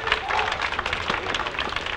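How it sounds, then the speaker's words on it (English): A crowd at a Kalamazoo 18s junior tennis match applauds a point, a steady wash of clapping that holds evenly for two seconds with no talk over it. "Crowd filing in, applauding that as they should"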